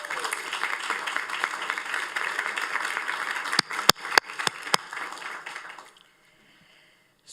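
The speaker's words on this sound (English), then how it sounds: "So how about you turn around and you give them a round of applause." Audience applause at a 2023 higher education scholarship awards ceremony, a dense steady clapping from a crowd in a hall, a few sharp close claps near the end before it stops abruptly into near silence.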